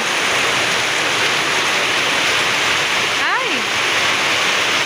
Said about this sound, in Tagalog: Bigla lang lumakas yung ulan